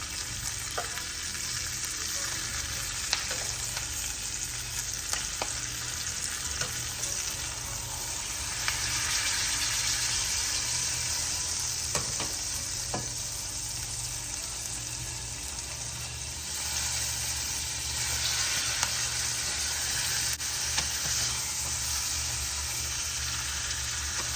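A tri-tip steak sears in a hot pan with butter, a loud continuous sizzle and crackle that swells and shifts as the meat is moved and lifted to brown its edges, with occasional clinks and no speech.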